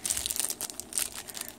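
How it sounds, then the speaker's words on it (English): Wrapping crinkles and crumples in short, crisp bursts close by, loud and continuous across a moment of handling, with no talk. "I'm sorry for the crinkling."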